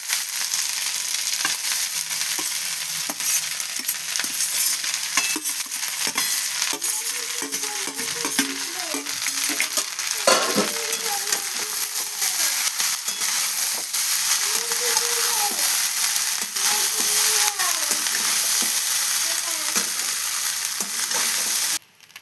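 Rice and vegetables sizzle and hiss steadily in a hot pan while being stir-fried, with repeated scraping and tapping of a spatula against the pan, close and continuous.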